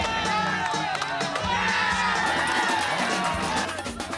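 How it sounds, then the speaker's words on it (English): A large outdoor crowd at a local town festival in Iriga cheers, shouts and whoops while singing and dancing to local tunes, a dense, loud and continuous wall of voices with children's shouts mixed in. "the crowds cheer as they sing and dance to local tunes"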